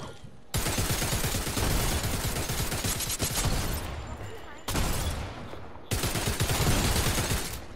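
Rapid Fortnite gunfire crackles in dense bursts, with short breaks between volleys and loud, close shots, while voices talk over the shooting.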